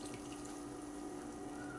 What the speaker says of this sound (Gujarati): હવે હું ખાયણીમાં થોડું પાણી નાખી એમાં જે મસાલો બચ્યો છે